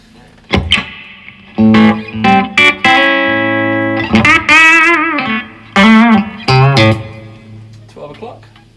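Electric guitar played through a Blackstar HT20 Mk2 valve amp with reverb at a low setting, strummed chords and single notes ringing briefly with only a slight tail.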